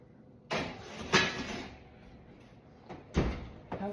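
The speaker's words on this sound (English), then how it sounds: "Open the door, and as quickly as possible, I'll slide the Dutch oven back in." A home oven door is opened and a heavy Dutch oven holding sourdough is slid back inside at 500 degrees, giving a few close, sharp clunks and scrapes with quieter handling in between.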